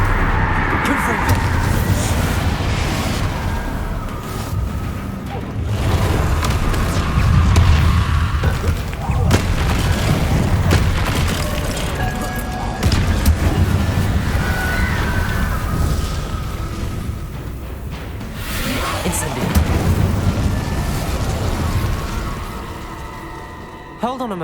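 Confringo fire spell explosions in the Hogwarts Legacy video game, a run of loud booming blasts and bursts layered with combat effects and game music, with voices talking over much of it.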